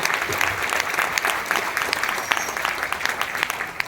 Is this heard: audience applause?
yes